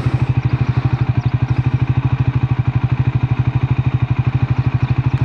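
Triumph Scrambler 400 XC motorcycle ridden off-road with traction control off and ABS in off-road mode, its engine a loud, close, steady rapid thumping pulse throughout.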